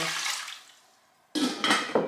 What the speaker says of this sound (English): we're going to need a pot where we put the 2 cups of water